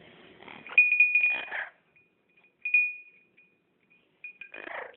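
A small bell rings with a clear, sustained high tone in a few separate bursts, mixed with light jingling and rattling, isolated against near silence between strikes.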